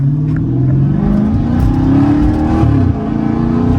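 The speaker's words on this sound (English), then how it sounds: "That's an automatic pull out of the gas station right there." Dodge Challenger SRT8 392 Scat Pack V8 pulling away from a gas station, a loud, steady engine drone with rising harmonic tones as it accelerates, heard close from inside the car with no talking.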